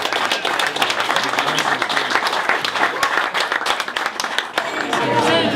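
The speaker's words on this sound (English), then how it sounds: "So give Mary a good round of applause here." Audience applause in a hall for Mary McNamara, a music teacher, at a gathering of young musicians in Aughty; dense, sustained clapping with crowd noise, steady and loud throughout.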